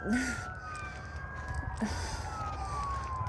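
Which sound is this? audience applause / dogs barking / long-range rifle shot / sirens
sirens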